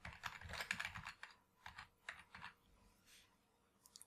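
Quiet, nearby clatter of typing on a computer keyboard, a quick run of keystrokes followed by a few sparser taps.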